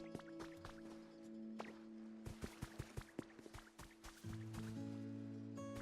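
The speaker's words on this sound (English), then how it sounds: "I hear the water and I think something's gonna splash out of it" Water in the Pokémon Pokopia video game drips and trickles in a string of small, sharp plinks and splashes over steady tonal game music, faint and close, with a fuller sloshing wash near the end.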